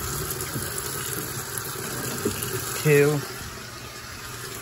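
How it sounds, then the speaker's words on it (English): Water pouring into a Kenmore laundry center washer as it fills for a short regular cycle, a steady rushing hiss throughout while a person slowly counts aloud. "While it's filling."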